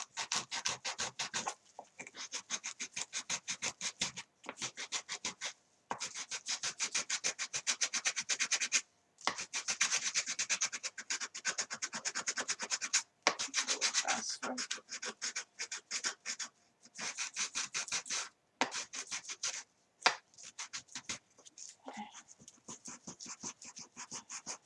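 Sandpaper rasps back and forth over a well-worn piece of wood being distressed, in steady, close scratchy strokes broken by short pauses, with no talking.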